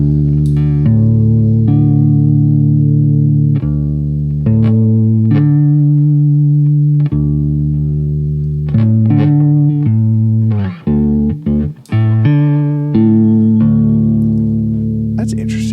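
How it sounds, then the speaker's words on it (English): Electric guitar through a Walrus Audio Julia chorus pedal on its vibrato setting, with sustained notes and chords that warble in pitch, played loud and close with no talk. "Let's see what it sounds like on the vibrato setting."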